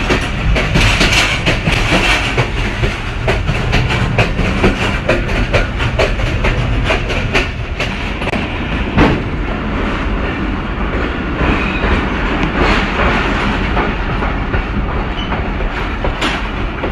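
Onboard the 12 Down Hazara Express in Pakistan, the train runs steadily with a constant loud rumble and rapid clickety-clack of wheels over rail joints throughout.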